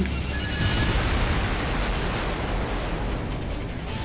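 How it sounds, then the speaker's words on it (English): Dense, continuous rumbling bursts of aircraft cannon fire during a plane dogfight in the video game Skydrift, loud and sustained throughout with no talking. "I love using the cannon"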